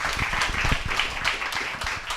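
A live audience at an evening workshop event gives a steady round of applause, with dense clapping that stays even and fairly close throughout.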